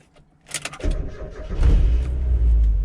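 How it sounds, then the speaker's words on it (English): A manual transmission car's engine starts: a few clicks and rattles, a short cranking burst, then the motor catches and settles into a steady, loud idle rumble close by. "So we'll start the car."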